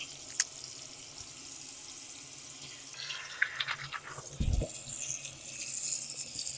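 Cool water runs from a bathroom tap while a face is washed, a soft steady stream with small splashes and rubbing, growing louder and more splashy toward the end.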